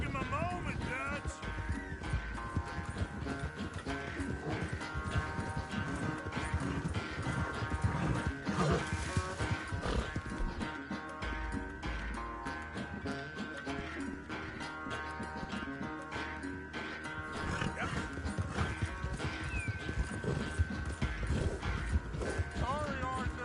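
Horse hooves clop steadily, with snorts and whinnies, from the video game Red Dead Redemption 2 during a ride. They run continuously under in-game talk and a game soundtrack.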